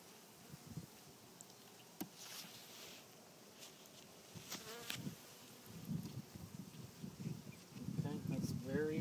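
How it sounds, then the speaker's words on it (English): A swarm of honeybees building comb during a hive install hums in a faint, steady buzz, with soft rustling and occasional murmured voices nearby. "Masses of bees."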